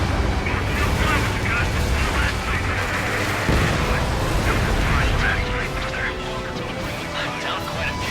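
Missile launch from a fighter jet in the Ace Combat 7 flight game, a dense roaring rush with a low boom partway through, layered over steady engine drone and voices of radio chatter.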